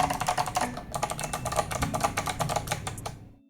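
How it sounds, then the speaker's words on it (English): Rapid, loud clacky typing rings out on an 8BitDo Retro mechanical keyboard with box white switches and a hollow case, the keystrokes dense and continuous before ending. "As you can see, this is quite the loud keyboard."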